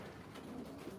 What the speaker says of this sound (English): These are all my race birds all sitting.